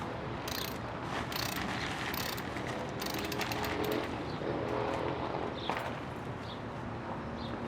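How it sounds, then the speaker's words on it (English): A wheel comes off a Mazda RX7 that has a snapped lug stud, with repeated clicking and ratcheting bursts from the wrench over a continuous background noise. "just so you guys can see the wheel actually coming off."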